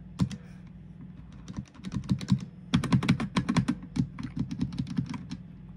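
HyperX Alloy Origins mechanical keyboard keys clicking in quick irregular bursts, close and crisp, with a short pause before a denser flurry of typing.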